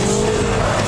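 A turbocharged Renault 5 accelerates hard, a brief, loud burst of engine roar with a slowly shifting tone, close and without speech.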